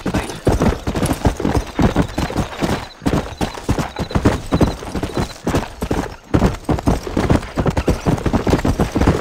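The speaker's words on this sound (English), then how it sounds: "So we'll grab my horse, we'll ride down there." Horse hooves in the video game Red Dead Redemption make a loud, fast, continuous clip-clop of a galloping ride, with an occasional neigh mixed in.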